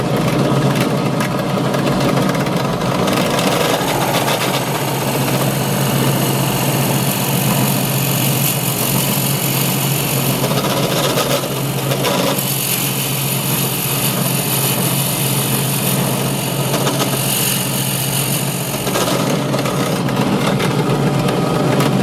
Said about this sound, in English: we're going to drill a nice hole there to make it look like the top of the vase is open